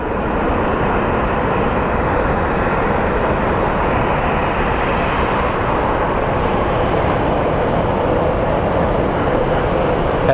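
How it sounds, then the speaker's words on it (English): Contour Aviation Embraer jet at the end of the runway at Phoenix Sky Harbor International Airport, its engines giving a loud, steady broadband roar that holds unchanged without pause, with no voices. "Contour Aviation has made its way to the end of the runway."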